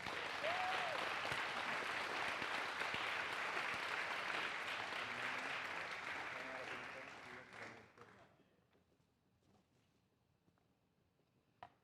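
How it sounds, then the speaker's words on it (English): Audience applause fills a high school spring band concert for an award recipient, a dense, steady clapping that holds for several seconds before tapering off into scattered claps and quiet room noise. "let's give a big round of applause for James Reddick."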